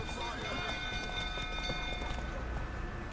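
The horse Roach gallops in The Witcher 3: Wild Hunt, a steady rapid clip-clop of hooves heard up close and continuous, mixed with dense game background noise.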